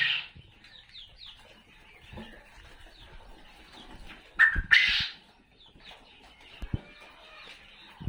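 Pet quail kept in a backyard or home pen call with short high chirps and clucks, several birds overlapping at close range, with a brief louder burst of calls partway through.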